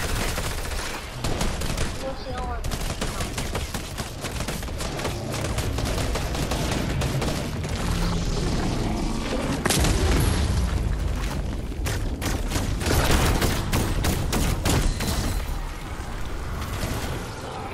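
Rapid gunfire and explosions during a horde rush mode in the video game Fortnite: dense, continuous volleys of shots and booms fill the whole stretch at a steady loud level, with occasional sharper blasts.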